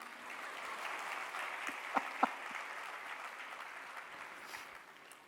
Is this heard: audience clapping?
yes